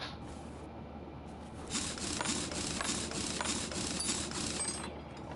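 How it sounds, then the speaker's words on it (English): A middle muffler removed in a car mechanic game on PS5: a ratcheting, mechanical clatter that starts quietly, then swells into a steady rhythmic run of clicks and grinding for several seconds, heard alone. "Middle muffler comes out."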